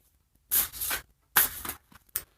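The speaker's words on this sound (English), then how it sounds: "I've been shuffling the deck for quite a while here now." Tarot cards shuffle in a few quick, soft bursts, each a brief papery riffle and rustle, close by and quiet against near silence.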